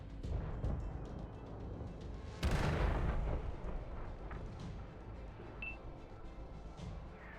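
Tank cannon shots in World of Tanks console, a heavy boom cracking out near the middle and rolling into a long rumbling decay over continuous battle noise.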